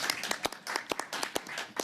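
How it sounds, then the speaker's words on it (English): A handful of committee members at a Canadian House finance committee hearing applauding, a short, close burst of scattered, uneven hand claps from a small group. "Dad, they always applaud this way when I speak."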